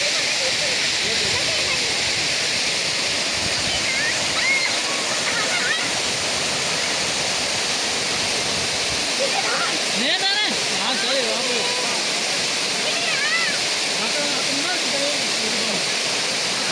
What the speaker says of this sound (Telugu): ఎలా ఉందండి water Tatiguda water falls? Water వచ్చి ఇలా పడుతుంది.